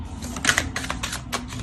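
A tarot card is drawn from the deck and laid down, giving a quick run of close papery taps and slides, a few sharp flicks among soft shuffling, with no voices.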